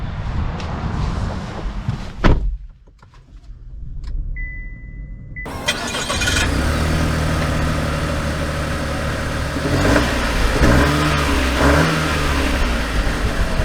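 A 2023 Chevy Trailblazer Activ engine starts and then accelerates, revving steadily and loudly up close after a brief quiet stretch, with rising engine tones carrying on to the end and no talking.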